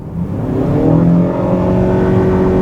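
A 2.5-liter naturally aspirated hybrid Ford Maverick AWD pulls hard up a steep Vancouver hill, its engine note rising steadily and loud throughout, with a sustained droning hum and no voices.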